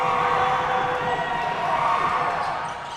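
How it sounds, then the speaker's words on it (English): A basketball arena crowd roars and cheers in a dense, sustained wash of noise during a free throw in a men's college game, loud throughout and easing slightly at the end. "Crowd makes noise."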